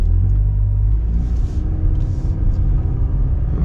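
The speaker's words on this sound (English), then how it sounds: "First thing we're going to do is start the car" A Chevy HHR with drivability problems idles and pulls away, a loud, close, steady engine rumble with low droning tones that shift slightly as it starts moving.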